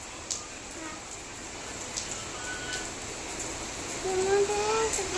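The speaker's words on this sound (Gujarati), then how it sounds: "અત્યારે નથી વરાઈ વરસાદ તો આજે વધી ગયો નહીં શ્રીયા" Steady rain hissing continuously in the background, with faint occasional drips and a brief low tone near the end.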